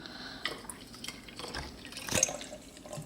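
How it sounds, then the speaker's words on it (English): Ginger ale is poured on top of a Halloween drink, giving a light splashing and dripping liquid sound with small clinks, close by, swelling briefly near the end. "to pour some ginger ale on top to give it a fizzy, creepy kind of look"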